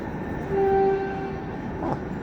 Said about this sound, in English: So let's get on this train.